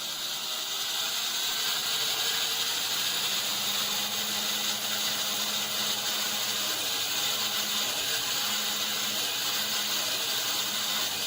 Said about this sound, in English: it's working, and I'm getting this big piece of wood cut